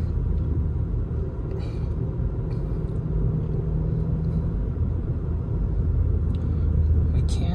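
A manual-transmission car in second gear gives a steady, close, low engine rumble that holds level and continuous for the whole stretch, with no speech over it.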